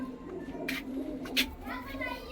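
Purebred Punjabi pigeons coo softly in the background while someone talks over them, with a couple of brief louder chirps and rustles breaking through.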